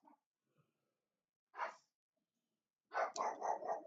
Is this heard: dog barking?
yes